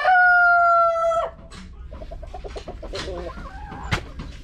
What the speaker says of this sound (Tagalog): Naninibago pa yung mga bago kong alagang manok